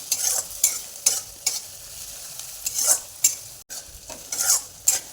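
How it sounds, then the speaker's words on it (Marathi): Onion sautéing in oil with cumin seeds, a soft sizzle under a regular series of crisp spatula scrapes and stirs against the pan, close and fairly loud. "जिरे टाकून घेऊया लगेच कांदा पण टाकून घेऊ कांदा छान मिक्स कलर येऊपर्यंत परतून घ्यायचा"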